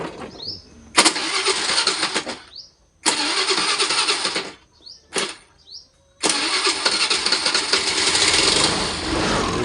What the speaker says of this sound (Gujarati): ગાડી સ્ટાર્ટ થઈ ગઈ છે તો